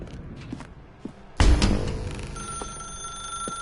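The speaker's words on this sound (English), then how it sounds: "Now pick up the phone." A telephone rings in The Stanley Parable video game, a sudden loud onset followed by a sustained bright electronic tone, with no talking.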